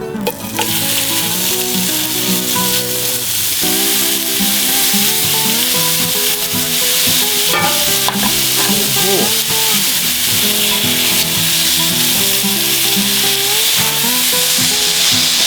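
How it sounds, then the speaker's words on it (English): Thin steak strips searing in avocado oil for fajitas, a loud, dense, continuous sizzle with faint stirring scrapes and tonal music underneath. "Now, we're going with the meat. We're going to put just another little dab of avocado oil in there."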